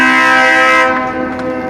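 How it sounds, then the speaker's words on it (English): A train passes close by, its horn blaring loud and sustained with rich harmonic tones, then fading slightly as the blast tails off over the rumble of the rail cars. "Train."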